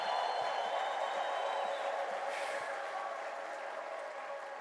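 A church congregation applauding and cheering in a sustained, even wash of clapping and voices that slowly fades a little toward the end.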